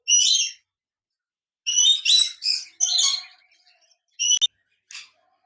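A caged pair of lutino opaline lovebirds give sharp, high squawking calls in short bursts, a loud opening call, then a cluster of rapid chattering notes, and two brief chirps near the end, with silence between.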